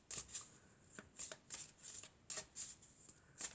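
Oracle cards, an elf oracle deck, are shuffled by hand before one is drawn, making a series of crisp riffling bursts in an irregular rhythm, close up and quiet with no talking.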